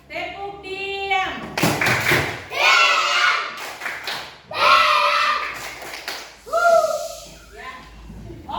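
A group claps in short rhythmic bursts, alternating with children chanting together in unison, loud and close.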